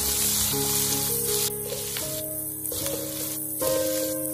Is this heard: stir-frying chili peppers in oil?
yes